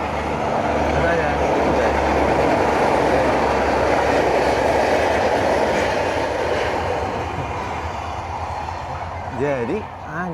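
A train rumbles past on the railway right in front of a roadside eatery, a loud continuous roar with rattling wheels and a squeal near the end, while people talk over it.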